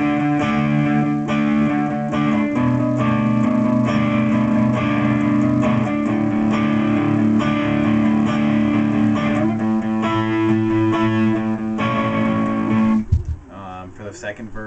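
Electric guitar picks out the verse chord pattern of a song with a slightly driven tone, playing continuously before a brief pause and a few scattered notes at the end.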